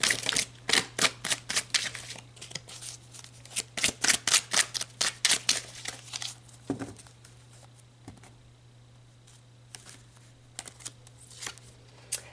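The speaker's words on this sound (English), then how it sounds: "All right, let's pull some more cards." Oracle cards riffle and snap in quick rapid bursts as a deck is shuffled, close and crisp, then quieter soft slides and taps as cards are pulled, with no talk.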